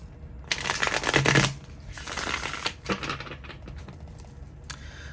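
Tarot cards shuffle in close bursts, a loud riffling flutter around the first second followed by softer intermittent shuffles and taps, with no talk over them.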